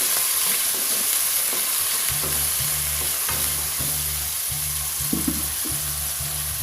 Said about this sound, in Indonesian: Aduk-aduk ya.